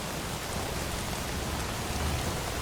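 Rain falls in a film scene from Pushpa, an unbroken, close wash of drops hitting the ground that stays steady from start to finish, with no speech.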